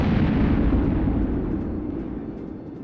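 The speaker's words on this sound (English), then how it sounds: "Laser turret noise." A laser turret sound effect from a sci-fi space battle: a loud, roaring broadband blast that sustains and slowly fades over about three seconds, with no voices.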